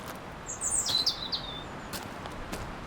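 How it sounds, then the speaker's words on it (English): Small songbirds such as robins and sparrows chirp and trill faintly at a distance in a short burst, over a steady hiss of outdoor background. "the sounds of robin and sparrows spoke of a light-hearted mystique"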